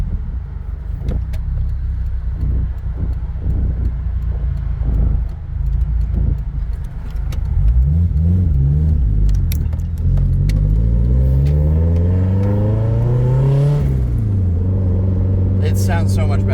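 A Subaru Forester STI's EJ207 engine with aftermarket Grimmspeed headers idles with a low rumble, then revs up in rising sweeps, climbing and falling back, loud and close throughout.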